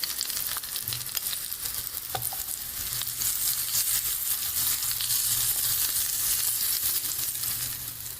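Hot ghee tempering poured over pumpkin raita, giving a continuous close sizzle and crackle that holds steady for several seconds, with a few soft clinks near the start.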